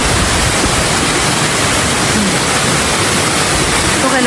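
A mountain waterfall in Malungon gives a steady, dense roar of falling water that fills the whole stretch without pause or change in loudness.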